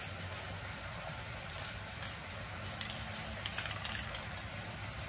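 Aerosol spray paint hisses in short, soft bursts onto a fishing lure tumbler, a faint breathy spray with a few quick passes and no talking.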